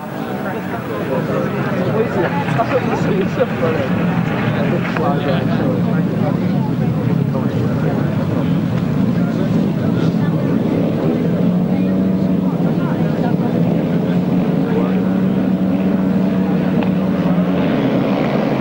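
Grasstrack racing motorcycles at the 1995 International Ace of Aces meeting roar away from the start of a race, a loud, steady, continuous engine drone that holds throughout, with a voice talking over it.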